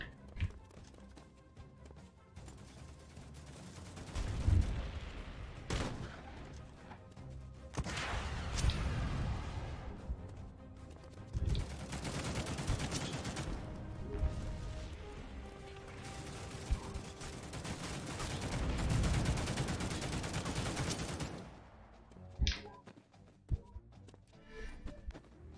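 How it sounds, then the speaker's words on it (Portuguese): Plastic toy soldiers trade gunfire in the Xbox One game The Mean Greens Plastic Warfare: bursts of shots and thuds at modest volume come in irregular clusters, with short pauses between them. "Caraca, tá mesmo tiro nas costas."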